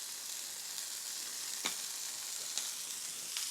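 Food sizzles steadily in a frying pan with a thin drizzle of olive oil, a constant hiss punctuated by a few sharper pops and crackles, close and moderately loud.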